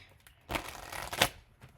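A deck of tarot cards shuffled by hand, a short riffling burst of papery flicks lasting under a second with a sharper snap at its end, close and alone.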